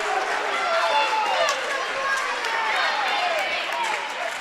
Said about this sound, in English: Husky crowd didn't like the call.